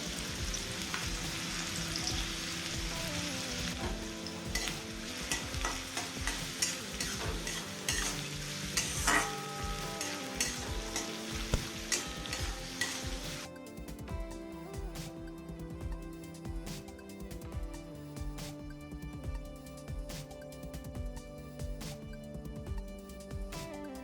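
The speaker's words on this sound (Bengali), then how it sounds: "পেঁয়াজ রসুনটা আমি 30 সেকেন্ড মধ্যে একটু ভেজে নেব, যাতে কাঁচা গন্ধটা চলে যায়।" Garlic and chopped chili frying in a pan for jute-leaf greens, a steady sizzle with frequent stirring scrapes, loud and close, the hiss dropping away partway through while the stirring continues, with no talking.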